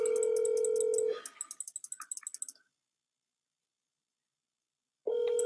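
A telephone ringback tone while a call waits for an answer: a steady held tone, then a run of rapid clicks, a few seconds of silence, and the tone starting again.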